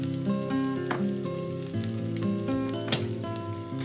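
Carrot, peas and green beans cook in a saucepan, giving a soft continuous sizzle beneath steady background music with sustained tones, no voices.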